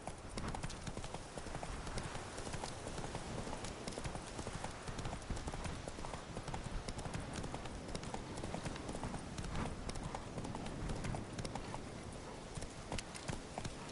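Roach the horse trots along in The Witcher 3, a dense, steady clatter of hooves running loud and close for the full fourteen seconds, with no pauses.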